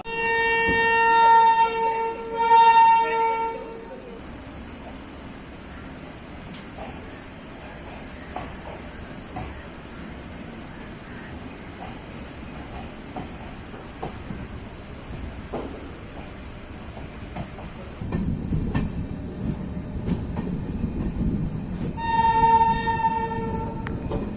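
Nagercoil–Tambaram Special Fare Express departing and running, with loud, close train horn blasts at the start and again near the end around a steady rumble of rolling wheels and carriages that grows heavier toward the close.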